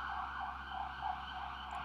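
An emergency siren wails outdoors, a steady two-tone warble carrying at moderate distance, continuous and fairly faint under room ambience with no talk.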